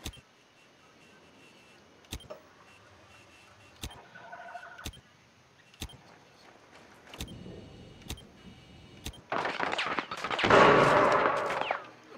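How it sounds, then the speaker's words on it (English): Sharp gunshots ring out in Rainbow Six Siege on the Park map, isolated single shots spaced every second or two, followed by a denser, louder burst of fire and blast-like noise near the end. "there was some gunfire"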